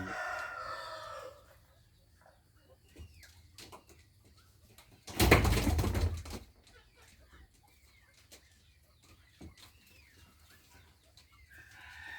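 Chickens sound in a farmyard, with a rooster crowing and a brief loud burst of wing flapping midway, amid scattered quieter clucks and calls.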